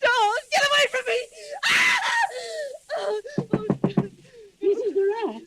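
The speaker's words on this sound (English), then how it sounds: "Why were you screaming?" A woman screams and cries out in a nightmare in an old-time suspense radio drama, several shrill anguished bursts broken by moaning, knocking and spoken lines, loud and close.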